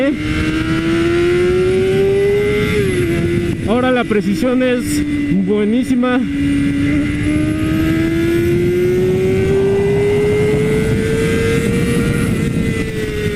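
A BMW S1000RR sport motorcycle in race mode, its engine droning loud and close with a steadily rising pitch, briefly blipping through rapid gear shifts mid-run, while someone speaks over it.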